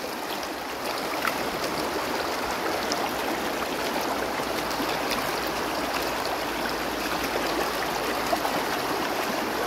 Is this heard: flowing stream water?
yes